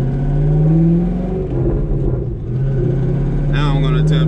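A Chevrolet Corvette C5 on cheap tires accelerates from inside, its engine humming in a strong steady drone that dips briefly and then builds again.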